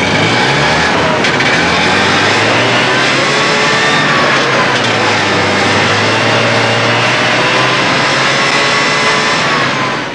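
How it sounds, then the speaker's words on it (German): A Trabant engine runs steadily at high revs on a roller dynamometer, a loud, continuous buzzing drone with slight pitch wavering and no talk. "Die Jungfernfahrt führte über den Rollenprüfstand."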